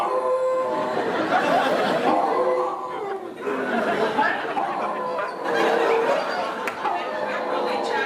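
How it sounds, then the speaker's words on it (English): A dog howls in drawn-out wavering cries, several in a row, mixed with people talking and chuckling nearby. "Whenever I say Bonnie B, Fozzie Bear starts howling, as you can see"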